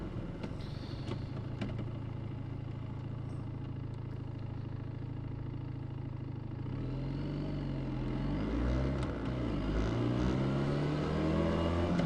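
Motorcycle engine cruising on the highway in sixth gear at about 4,000 RPM, a steady drone that grows louder and rougher in the second half, mixed with wind rush and no talk.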